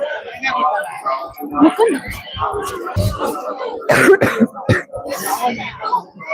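Several rough coughs and throat clearings from a man with a cold break up his continuous speech, close to the microphone amid a busy, crowded outdoor background in Tirumala.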